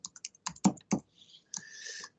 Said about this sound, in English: We're going to type it up first.